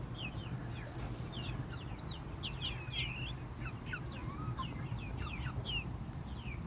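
Chickens cluck and chirp in a busy, overlapping chorus over a low rumbling background, fairly quiet and steady throughout.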